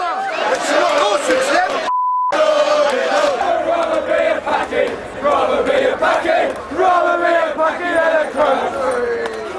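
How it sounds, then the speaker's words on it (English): A large football crowd chants loudly in unison, rhythmic voices rising and falling in repeated phrases, close and continuous, broken once by a short censor beep. "racist chanting from a section of the crowd"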